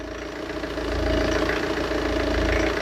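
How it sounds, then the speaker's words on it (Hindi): The diesel engine of a Tata Safari Storm, in for an overhaul, idles with a steady, close mechanical rumble and a faint knocking texture, growing a little louder after the first second. "हाँ 3-4 का डीजल इंजन है"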